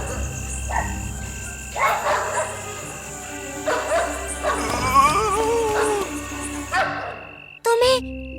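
Dogs in an animated Hindi fairy tale bark repeatedly in short, loud bursts and yips while searching for cats, with voices and background ambience around them.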